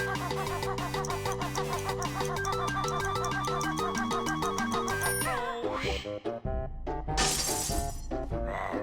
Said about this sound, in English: It's a very violent shatter sound effect for that.